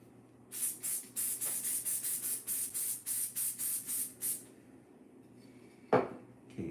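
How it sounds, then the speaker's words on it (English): A spray can sprays a leaf in quick repeated bursts, about a dozen close hissing puffs in steady rhythm, followed by a single clatter. "we're gonna spray the leaf"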